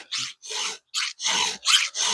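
A chainsaw chain being sharpened with a hand file, six rasping strokes in an even back-and-forth rhythm, close and clear with short pauses between them.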